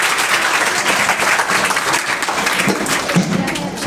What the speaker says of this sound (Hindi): तालियों के साथ इनका इस्तकबाल।